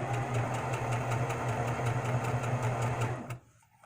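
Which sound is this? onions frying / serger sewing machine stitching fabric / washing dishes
serger sewing machine stitching fabric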